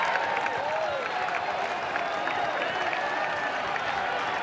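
A record overflow crowd at a Tulane vs Oregon State college baseball game in Corvallis applauding on a full count, steady distant clapping and crowd murmur with a commentator talking over it.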